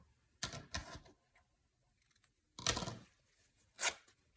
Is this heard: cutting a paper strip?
yes